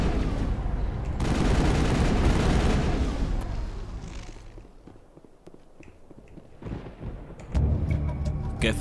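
Gunfire from a firefight on Virmire in the Mass Effect video game, with dense bursts of shots and booms that come and go, loud at the start and again near the end, set among game effects.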